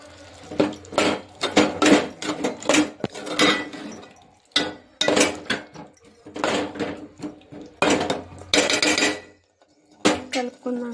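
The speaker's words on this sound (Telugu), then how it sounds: "కారం వేసుకొని కలుపుకుందాం ఒకసారి." A spoon stirs chili powder into a tomato and drumstick curry in a metal pan, with repeated scraping and clinking strokes that come in uneven bursts and short pauses, close and fairly loud.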